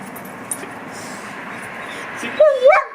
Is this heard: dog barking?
yes